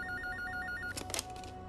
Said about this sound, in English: maybe the ringing phone has some answers.